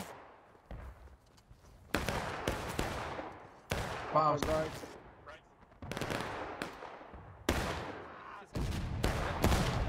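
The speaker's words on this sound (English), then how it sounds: "Cannons are shooting from the northeast, east behind the line here" Cannon and musket fire in the Civil War battle game War of Rights at Piper Farm, a series of loud, sharp booms spaced irregularly, with someone speaking briefly between the shots.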